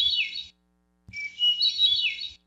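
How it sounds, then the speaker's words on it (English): Hermit thrush song: two clear, flute-like phrases separated by a short pause, the second longer and more elaborate, heard alone and fairly close. "Here's a hermit thrush for completeness."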